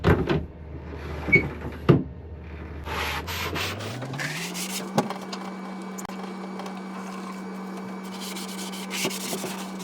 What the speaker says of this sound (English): Now let's get the hatch open.